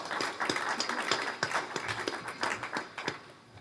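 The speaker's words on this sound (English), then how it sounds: "So another round of applause for Breeze Airways." An audience at an airport press conference claps in a steady round of applause. The sharp hand claps are of moderate loudness and taper off toward the end.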